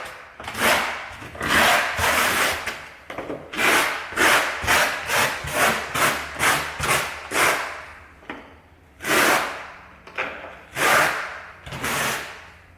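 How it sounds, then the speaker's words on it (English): A trowel spreads tile adhesive across a floor in repeated scraping sweeps, loud and close, in rhythmic bursts with short pauses between strokes and no talking. "We take our trowel and then we can spread this all around."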